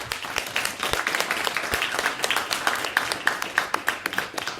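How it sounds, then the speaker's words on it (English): An audience at a Seoul book club meeting gives a round of applause for a special guest, with dense, lively clapping that holds steady throughout and includes a few sharper claps close by. "please give our special guest a very big round of applause for being such a wonderful guest"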